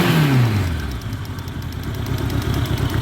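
A 1986 Honda Goldwing GL1200 Interstate motorcycle engine running, a low steady hum with a brief falling note at the start, close by and fairly loud.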